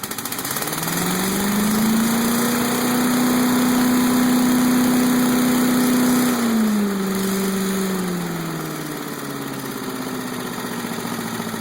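A small flathead engine, freshly repaired with a new head gasket, air filter and carburetor, runs steadily up close, its hum rising and holding before dropping back to a lower, even idle.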